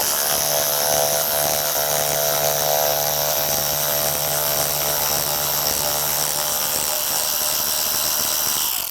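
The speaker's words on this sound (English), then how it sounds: "We're going to remove those with my electric tool" A power tool whirs steadily and loudly for about nine seconds, removing the trims from a door hinge during an open-wide hinge conversion. The motor holds an even pitch, then eases down near the end.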